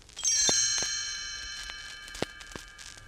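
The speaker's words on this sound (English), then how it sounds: "You will know it is time to turn the page when you hear the chimes ring like this" A bright page-turn chime from a 1977 Disneyland read-along record of The Hobbit rings out once and lingers, its clear bell-like tones sustaining and slowly fading, with a few soft clicks and taps around it.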